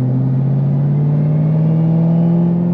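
A manual Corvette ZR1 runs on a dyno, its engine holding a loud, steady drone that slowly rises in pitch as it revs up, with no talking.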